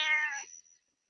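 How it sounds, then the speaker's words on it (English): A single short, close meow from a cat, clear and bright, fading quickly into silence. "That is a cat."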